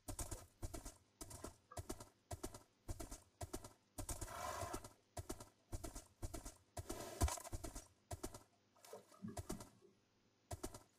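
Horse hooves clop on the ground in the video game Minecraft, a steady run of distinct, fairly loud hoofbeats that briefly stops near the end before resuming.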